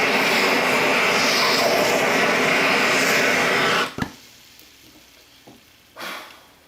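Blowtorch caramelizing sugar on top of crème brûlée, a loud steady close roaring hiss for about four seconds that cuts off sharply, followed by quieter clicks and handling sounds.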